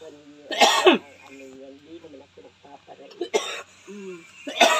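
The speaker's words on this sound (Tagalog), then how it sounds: "Inuubo na." Two or three sharp, harsh coughs or throat clears come close by, with quiet speech murmuring between them.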